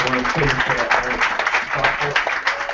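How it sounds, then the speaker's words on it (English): A town hall meeting audience in Sacramento gives Marcia a round of applause, a moderate patter of clapping running underneath a voice that keeps talking throughout. "Can we have a round of applause for Marcia?"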